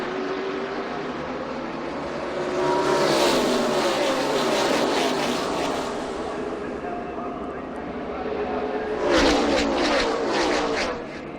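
Stock race cars roar at the Daytona start, a swelling rumble of many engines that builds, eases, then surges again near the end, heard beneath a commentator's voice.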